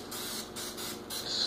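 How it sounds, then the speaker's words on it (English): Canola oil cooking spray hissing from a can in three short bursts, close and fairly loud, used to coat a dish before baking in the oven. "Canola oil. Cooking spray."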